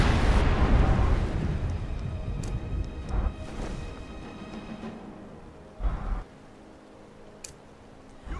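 Alduin, the dragon boss in Skyrim, unleashes fire breath as a loud roaring blast that starts heavy and gradually fades, followed by a few scattered bursts and thumps amid quieter battle noise.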